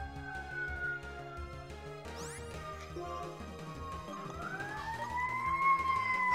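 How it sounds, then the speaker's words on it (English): A fire truck or ambulance siren wails in rising and falling sweeps, faint at first and growing louder as it passes outside, over steady Pokémon Black game music. "Yeah, there's a fire truck going by, or ambulance."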